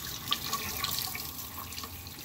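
Hot water runs steadily from a tap in a conversion, a close, continuous splashing stream with small drip-like spatters and no voices.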